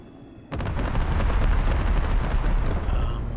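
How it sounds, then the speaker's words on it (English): Airstrike explosions in the real-time strategy game Broken Arrow, a sudden heavy onset of rumbling blasts and crackling impacts that roll on continuously and loudly after a quiet start. "So some kind of airstrike that came in there"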